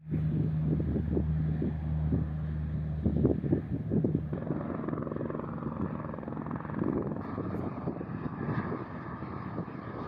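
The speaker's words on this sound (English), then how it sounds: "The Air Greenland -8 just departed from here in Narsarsuaq towards Nuuk." An Air Greenland Dash 8 turboprop departs Narsarsuaq airport, giving a broad continuous engine roar at moderate distance with gusty wind noise, steady throughout and slowly shifting in tone.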